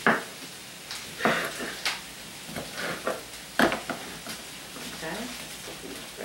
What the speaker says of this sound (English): everything's sizzling and the smell of those peppers and everything